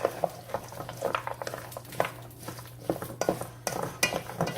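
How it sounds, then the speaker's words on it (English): A thick pork loin stuffing paste is mixed in a bowl, with repeated irregular scraping, clinks and soft wet stirring strokes, close and fairly loud with no talk. "Now we need to mix this really good"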